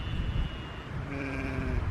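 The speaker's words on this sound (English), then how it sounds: "It is a sheep, isn't it?" A single sheep gives a drawn-out bleat outdoors at night, fairly close and clear over a steady background.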